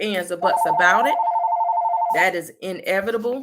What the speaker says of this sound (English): And I do apologize for my phone ringing